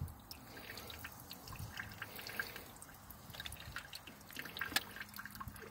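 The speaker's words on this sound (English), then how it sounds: "get a cup with some baking soda and pour it on here to help neutralize all the acid buildup" Baking soda solution poured from a cup over corroded car battery terminals, giving faint, scattered drips and small splashes of liquid against a quiet background, with no talking.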